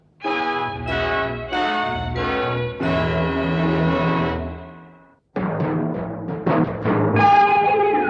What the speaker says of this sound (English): That last chime came live from Big Ben.